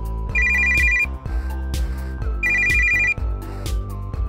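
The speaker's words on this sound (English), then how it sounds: "Let's make a phone call, I guess." Repeated electronic phone ringtone from the video game Always Sometimes Monsters, two clear bursts of bright rapid trilling tones over a steady background music bed, close and loud.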